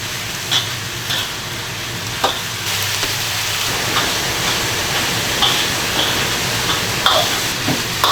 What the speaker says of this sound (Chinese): 下牛肉， 把香料放下去哈，先把牛肉炒一下。